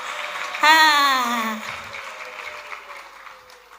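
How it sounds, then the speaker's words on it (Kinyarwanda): Congregation applause during a Kinyarwanda church service, a broad crowd wash running under a preacher's sung and spoken call the whole way through. "amashyi menshi, amashyi menshi kwa Yesu, haleluya"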